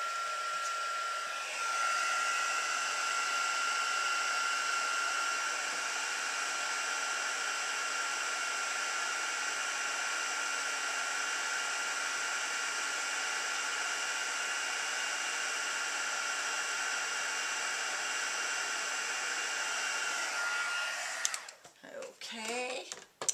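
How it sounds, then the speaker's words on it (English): A heat gun melting gold embossing powder on a St. Patrick's Day card blows a loud, steady airy whoosh with a fan whine for about twenty seconds, then cuts off abruptly into brief handling clatter. "use my heat gun."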